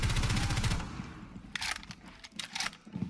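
Gunfire in Rainbow Six Siege, a rapid automatic burst at the start followed by several sharp scattered shots and impacts, close and fairly loud.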